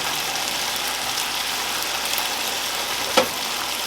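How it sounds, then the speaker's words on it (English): Quartered mushrooms toasting in a little oil or butter in a pan give a constant soft sizzle, with one brief clack of a utensil near the end. "we're just going to toast them off in a little oil or butter in this pan and make them nice and crispy"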